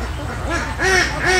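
Ducks on a duck farm quack in short nasal bursts, two or three clustered calls rising over a steady background murmur, fairly close and loud.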